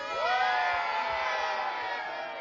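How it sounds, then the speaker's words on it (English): Children lining a roadside cheer and whoop together for a cyclist on a long charity ride, a bright, sustained burst of young voices at close range that tapers slightly. "Guys, can we have a big cheer for Greg and show us your beautiful signs?"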